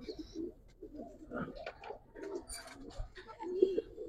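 Giribaz and coloured pigeons at a pigeon sale coo in soft, repeated low calls close by, with light rustling and a few faint voices in the background.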